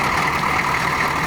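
A 1985 Chevrolet K5 Blazer with a 6.2 diesel V8 idles steadily, a close, even engine rumble with no revving and no other sounds.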